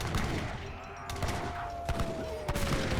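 Pistolero cavalry in Age of Empires 3 fire pistols in rapid, overlapping bursts, with several sharp cracks spread across the battle amid steady game ambience and a sustained tone.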